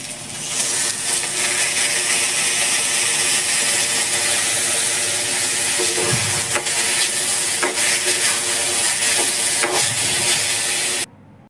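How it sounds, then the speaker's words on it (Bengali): Rice and mung dal frying together in a pan for bhuna khichuri, a steady close sizzle with occasional stirring scrapes, continuing evenly before cutting off abruptly at the end. "চাল আর মুগ ডাল একসাথে মিশ্রণ করে রেখেছি, তো এখন এটাকে দিয়ে আমি ভালোভাবে একটু ভেজে নিব"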